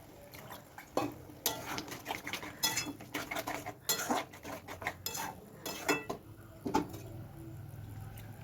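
Chopped onion, garlic and green chilli are stirred in a pan for egg tarka, giving irregular metallic clinks and scrapes of a utensil against the pan with quiet pauses between, fairly faint and without talk.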